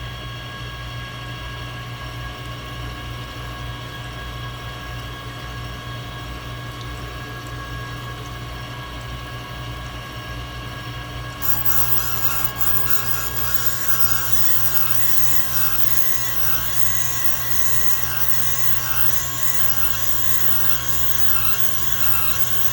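Valve grinding on a Mopar 360 engine valve, flooded with oil coolant: a steady, loud machine whine and liquid wash with constant hum that brightens and grows harsher partway through, continuous with no talk.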